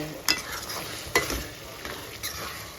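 Prawns fry in a pan with a soft, steady sizzle, broken by three sharp spoon scrapes spaced about a second apart, close by and moderate in level.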